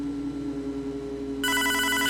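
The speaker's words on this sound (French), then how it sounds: "Le téléphone. Vous ne voulez pas répondre?" A telephone bell starts ringing abruptly partway through, loud and continuous, over a steady low background hum with no talking.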